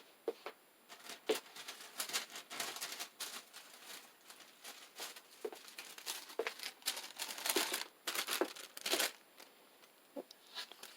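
A sheet of wax paper is handled at a craft table, producing soft, irregular crinkles and rustles in quick bursts scattered across the quiet, heard up close.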